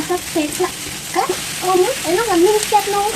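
Ingredients for a sesame curry frying in a pan, a continuous close sizzle with stirring, while a voice talks or hums over it throughout.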